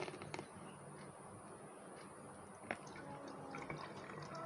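Homemade organic pesticide for chili plants drips and trickles quietly as it is squeezed through a tightly woven cloth, a faint, continuous patter of liquid falling close by.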